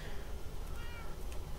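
A pet cat meows in the video game Minecraft, with a few short, soft meows rising briefly over a steady background hum.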